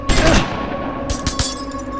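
Gunfire rings out in a cover-based shooting video game, with a burst of sharp shots at the start and another cluster of quick cracks near the end over a steady game background hum.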